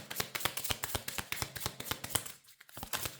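Tarot cards shuffled in the hands, a rapid run of crisp flicking riffles in an even rhythm, briefly pausing before resuming, close and clear with no talking.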